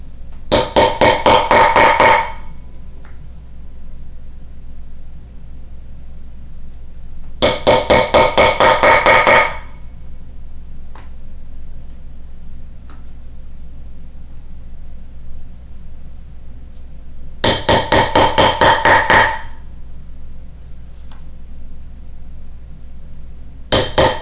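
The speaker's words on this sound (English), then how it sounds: "This is a lot thinner leather, so it should punch pretty easily." A metal punch is hammered through thin leather for a holster in three quick, loud bursts of sharp, rapid strikes, with quiet pauses between each burst.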